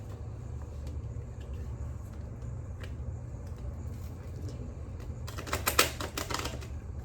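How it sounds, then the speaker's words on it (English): A quick, crisp riffling of cards being shuffled, a short flurry of papery clicks over a low background rumble. "Gonna shuffle my cards really quickly"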